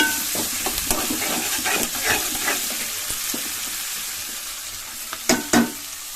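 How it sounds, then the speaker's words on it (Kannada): Ragi vermicelli and onions fry in a pan, giving a steady close sizzle with scattered stirring clicks and scrapes and a couple of sharper knocks near the end, with no voices. "ಇದೊಂದು ಎರಡು ನಿಮಿಷ ಫ್ರೈ ಆಗಲಿ"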